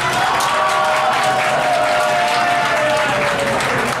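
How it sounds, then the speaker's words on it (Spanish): Loud, steady clapping from a television show audience greets a contestant, holding at full intensity for a few seconds with a faint sung or shouted tone running through it. "Aplausos para Isadora Montiel."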